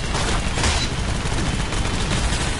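Dense, continuous bursts of gunfire in the online shooter GunZ 2: The Second Duel, loud and rapid with overlapping shots and booms throughout.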